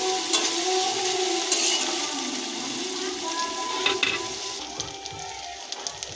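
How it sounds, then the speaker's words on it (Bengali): Ginger-garlic paste and turmeric fry in a pan for crab curry, making a continuous bright hiss and sizzle broken by occasional stirring clicks, with no talk. "আদা রসুন বাটা দেবো, হলুদ গুঁড়োটা দিয়ে দেবো যাতে না চারদিকে ছড়িয়ে যায়। ভালো করে কষিয়ে নেব।"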